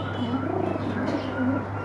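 Soft, close pigeon cooing, a few low rolling coos over a steady background hum in a short stretch with no speech.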